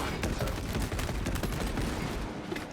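A Heavy Bolt Rifle fires in a shooter video game, a continuous rapid fusillade of punchy gunshots layered over one another, loud and dense, with no talk.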